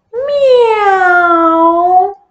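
A single long, drawn-out meow, loud and close, sliding slightly down in pitch over about two seconds.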